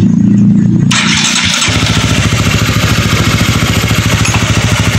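A Honda RS 150 motorcycle engine cranks and catches, then settles into a loud, close, rhythmic idle.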